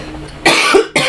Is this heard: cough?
yes